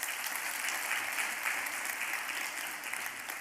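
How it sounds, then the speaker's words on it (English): Soft, steady applause at an arangetram dance recital, a dense wash of many hands clapping together at a distance, even in level throughout without any voices. "Let's give him a nice round of applause"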